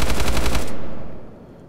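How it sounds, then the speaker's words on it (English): Rapid burst of gunfire from a video game, bullets striking and ricocheting off an armored jeep, loud and close for about half a second before cutting off into a fading tail. "Them ricochets, though."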